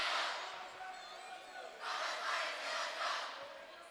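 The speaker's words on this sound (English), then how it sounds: "Still a very active student crowd here from McFarland tonight." Student crowd from McFarland at a high school boys basketball game against Whitewater roars and chants in a gym, with a sustained wash of voices that swells in waves near the middle and end.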